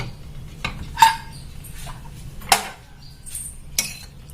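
Three sharp metallic clinks spaced about a second apart as a pressure cooker lid is handled and lifted, close by over low kitchen hum.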